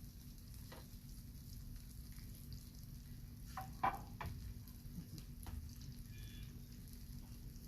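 Chilies and pre-cooked sausages frying in hot oil in a pan, a steady low crackling sizzle throughout with a few faint clinks and stirring scrapes, fairly quiet.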